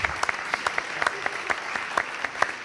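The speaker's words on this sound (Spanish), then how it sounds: "Un aplauso para ella" A small audience at an interview event in Spain gives short, scattered applause, with uneven claps close by and some faint voices underneath.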